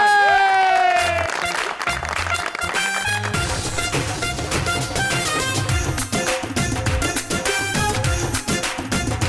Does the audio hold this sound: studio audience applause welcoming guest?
yes